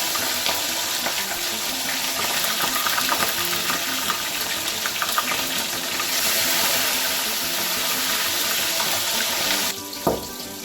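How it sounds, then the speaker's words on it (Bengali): Bhetki fish fries in a pan at home, giving a steady, dense hiss and crackle that runs unbroken and fairly loud, with a brief clatter near the end and no voices. "আর এবারে মাছটা ভাজা করে নেব।"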